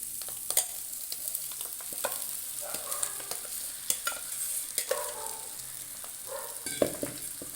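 Mutton frying in a pan as rock salt and ground masala paste go in, with steady close sizzling broken by repeated sharp scrapes and clacks of stirring throughout, and no voices.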